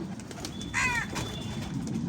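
A young pigeon chick coos softly once, a brief warbling call over faint background noise, fairly quiet and without talk.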